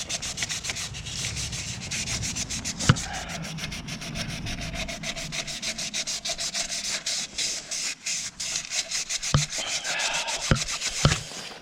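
Steady back-and-forth sanding scrapes on the cylinder liners of a seized Perkins engine from a Massey Ferguson 675 tractor, close and continuous, with a few sharp knocks near the end.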